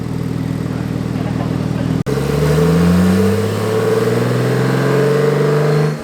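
A Porsche 911 Turbo S with big turbos and a custom tune on pump gas revs hard on a dyno, cutting out sharply before the engine pulls up again through a long, loud rising sweep.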